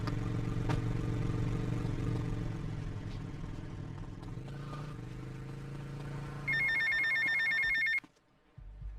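A cell phone rings in GTA Vice City, its electronic trill starting near the end over a steady rumble of traffic and engine noise, then cutting off abruptly.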